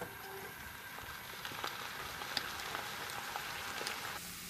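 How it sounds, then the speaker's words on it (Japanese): Drained boiled potatoes steaming off their remaining water in a pot over high heat, giving a steady soft crackling hiss with faint tiny pops, fairly quiet and continuous with no voices. "最後に強火にかけて水を飛ばします"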